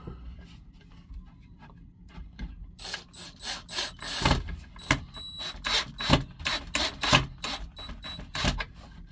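A screw is driven through wood for a homemade hat rack, with a power driver whirring in a run of short, loud, closely spaced bursts that grow stronger toward the end.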